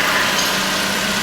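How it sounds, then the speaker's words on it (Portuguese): Car engine running at a steady idle during an automatic transmission fluid change with a fluid-exchange machine connected, a continuous close, even hum with no talking. "Então, ligamos o motor"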